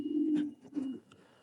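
Young racing pigeons cooing close by in a loft: low, throaty coos in two short pulses, with faint higher chirps mixed in and no voices.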